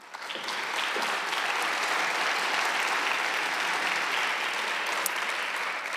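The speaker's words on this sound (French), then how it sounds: "Vous êtes déjà bien partis avec les applaudissements" A large audience at the 2023 Prix du Québec award ceremony gives sustained, dense applause. It swells quickly and holds loud and steady for several seconds.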